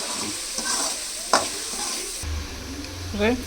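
Onions sautéing in a pan for chicken gravy give a soft, steady sizzle with scraping and stirring strokes of a utensil, a sharp tap partway through, and a brief voice near the end.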